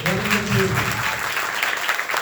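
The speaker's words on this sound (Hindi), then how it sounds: "जोरदार तालियों से अभिनंदन करें" An audience at an Arya Samaj annual celebration in Noida claps loudly for a performer, a thick burst of applause running over two seconds, with a brief voice heard at the start.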